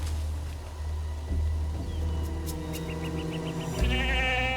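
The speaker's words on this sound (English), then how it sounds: "It's another goat." A goat bleats in a drama scene set on a mysterious island, a wavering tremulous call near the end over a steady low rumble, close and clear with no speech.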